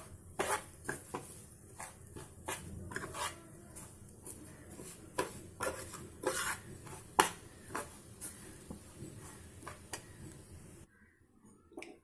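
A spoon stirring grated coconut as it roasts in a pan, with irregular light scraping and tapping clicks that are fairly faint, ending in a brief near-silence.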